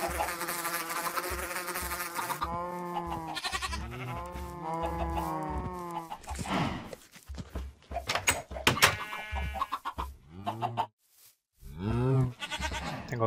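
Cows in the Minecraft video game moo repeatedly, giving a run of drawn-out, overlapping low calls over a steady game-sound background with no talking.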